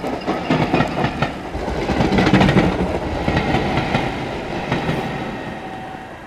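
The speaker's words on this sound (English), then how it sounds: "There's like a ghost train going through or something." A ghost train rolls through a station in the game Dark Fall: The Journal, with rhythmic clickety-clack of wheels over rail joints swelling louder midway and then fading slightly, heard alone.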